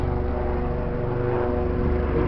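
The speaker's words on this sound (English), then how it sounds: "we got helicopters coming overhead." Low droning hum of helicopters flying overhead above the water, steady and tonal with rotor and engine harmonics, no talk.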